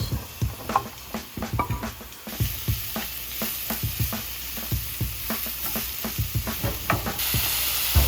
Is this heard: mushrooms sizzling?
yes